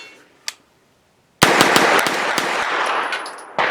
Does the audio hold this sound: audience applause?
no